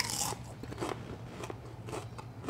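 Homemade vegan nacho chips bitten up close, giving several sharp, crisp crunches in quick succession with brief chewing crackle between bites.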